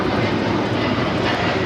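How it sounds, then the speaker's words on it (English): A United Airlines Boeing 787-9 Dreamliner accelerates down runway 25 right at LAX, a loud, steady, broadband jet roar held evenly for the whole short stretch. "United Dreamliner now rolling down that 25 right."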